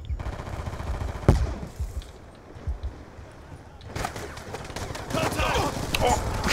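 Bursts of gunfire from Call of Duty: Black Ops 2 multiplayer crack out, a sharp shot early on, then sustained rapid firing building loud near the end, over a busy game background.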